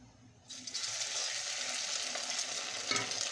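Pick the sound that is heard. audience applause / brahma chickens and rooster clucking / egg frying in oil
egg frying in oil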